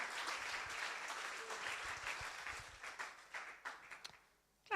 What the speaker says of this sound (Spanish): Denle un aplauso, Señor le ama